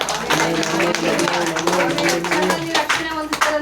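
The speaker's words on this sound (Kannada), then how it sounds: "ಚಪ್ಪಾಳೆ ಇನ್ನೊಂದ್ಸತಿ ಹೊಡೆಯೋಣ." Church congregation clapping together during a Kannada sermon, a dense, steady patter of many hands lasting a few seconds with voices mixed in.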